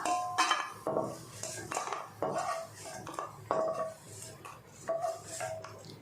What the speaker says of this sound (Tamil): இப்போ இது ஒரு தட்டில் மாற்றிடலாம்